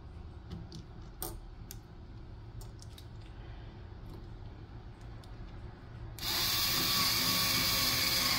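A screw is driven in while building a PC: quiet clicks and light taps of a screwdriver, then a sudden loud steady whir of a power tool near the end, close by.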